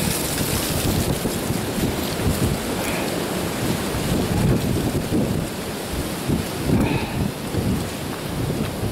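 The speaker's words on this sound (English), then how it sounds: "here comes another gust." Strong, damaging wind gusts roar through an outdoor woodpile area, a loud continuous rush of noise that swells and buffets the microphone, surging harder around the middle and again near the end.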